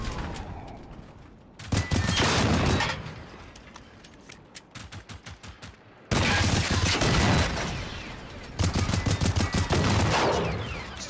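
Heavy gunfire rips through a firefight at a hotel in the Generation Zero video game, with dense bursts of rapid automatic shots and rattling fusillades broken by short gaps and scattered single pops, loud and close.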